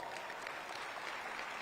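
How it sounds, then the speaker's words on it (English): Brief applause from an audience at a city State of the City address, a faint, even wash of clapping lasting under two seconds. "Give them a round of applause."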